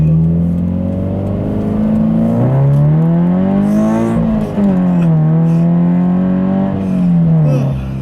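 A Subaru BRZ accelerating hard from inside the cabin, the engine note climbing through gears with rising, falling and climbing pitch again, loud and close throughout with no talking.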